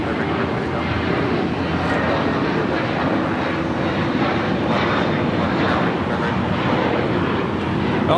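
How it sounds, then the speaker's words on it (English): A JetBlue Airbus A321 jet takes off for Newark at LAX, a broad, steady engine roar held at constant loudness throughout, heard from a distance without any breaks. "it's meant to be taking off to Newark, JetBlue 1874. It's an A321"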